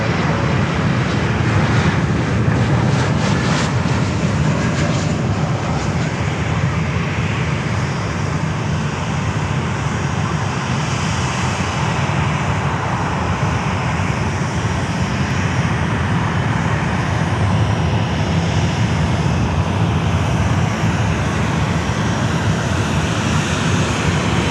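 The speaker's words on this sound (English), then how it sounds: "here comes Delta, 321 Neo." A Delta Airbus A321neo airliner roars loudly and continuously at Fort Lauderdale airport, a broad steady engine rumble close by with no break and no talk.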